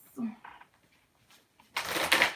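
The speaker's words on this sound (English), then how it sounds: "I've been shuffling like a maniac." Tarot cards being shuffled in a dim room lit by candles, a dense rustling riffle building near the end after quieter handling noises and a short vocal sound.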